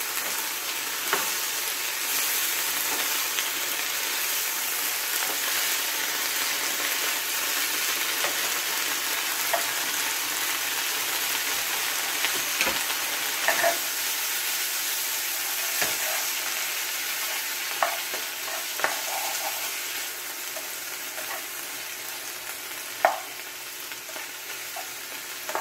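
Vegetables stir-frying in a wok give off a steady, dense sizzle with no break. Faint scrapes and clicks from stirring come through at irregular moments, and no one speaks.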